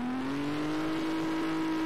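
Game car built with ACF in Garry's Mod speeding up, a steady engine drone with a tone that rises gradually in pitch over about two seconds, fairly quiet and heard on its own.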